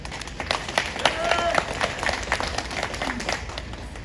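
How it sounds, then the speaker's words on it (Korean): Crowd applause at a Korean bus workers' union rally, steady clapping from a gathered group lasting several seconds with a voice speaking over it partway through. "우리 동지들 힘찬 박수 한번 다시 보내드렸으면 좋겠습니다"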